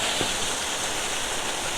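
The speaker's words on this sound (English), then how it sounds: "Beautiful waterfalls here." Steady rushing water from waterfalls in the Scottish Highlands, a constant broadband roar that stays even and fairly close throughout, with no voices.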